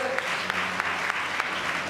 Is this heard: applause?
yes